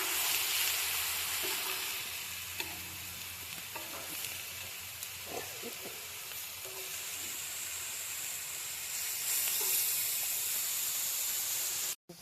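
Quail meat sautéing in oil with onion and ginger-garlic paste, a steady close sizzle and hiss lasting about twelve seconds, broken by occasional soft stirring scrapes and taps before cutting off abruptly.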